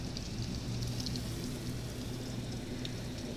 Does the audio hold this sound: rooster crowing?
no